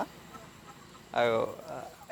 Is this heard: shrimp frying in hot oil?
no